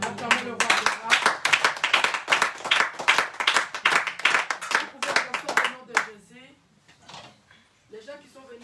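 A church congregation claps in steady rhythm and acclaims aloud, dense, loud hand claps under voices that fade out toward the end, followed by scattered talk.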